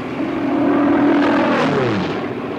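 A fighter airplane's engine drones steadily in flight, a loud continuous propeller roar with a slowly shifting pitch, close and without voices.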